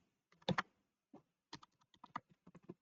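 Keys tap on a computer keyboard in short irregular clusters, a quick double stroke followed by a scattered run of light clicks, close and dry in a quiet room.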